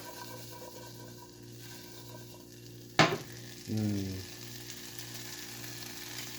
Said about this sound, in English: Now you're going to wait till these get really sizzling. And the oil should help with the sizzling.